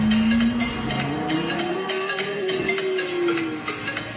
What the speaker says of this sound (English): do believe that is some kind of Porsche